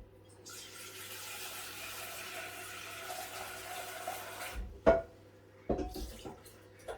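Running tap water pours steadily into a pot for several seconds, followed by a few clunks and knocks nearby.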